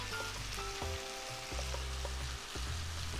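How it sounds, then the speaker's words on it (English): Dry masala spices (turmeric, chili, cumin and coriander powders with salt) sizzle and fry in a pan for Nargisi kofta curry, a steady close crackle with low stirring scrapes and clunks, without any voices. "let's saute all the ingredients nicely"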